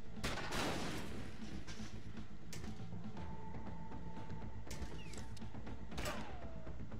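Gunfire in the video game SteamWorld Heist: a few sharp shots and thuds ring out at moderate volume, with bright tonal effects and a steady hum from the game underneath.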